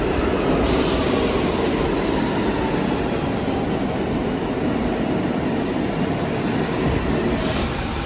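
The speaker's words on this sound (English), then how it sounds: "I'm in the subway and I'm about to transfer" A New York subway train rumbles loudly and continuously with a steady roar of wheels on rails and a faint high squeal, heard from inside with no talking.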